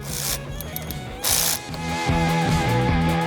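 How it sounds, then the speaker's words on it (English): A ratchet wrench loosens a nut on a 2015-2022 Chevy Colorado, a steady mechanical clicking close by with short pauses, and a brief hiss-like burst midway. "go ahead and remove this nut here"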